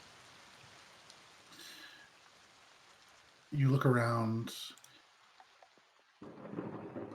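Rain and a thunder rumble played as a sound effect during a tabletop role-playing session, with one loud burst of thunder in the middle and steady rain hiss around it, under a narrator's voice.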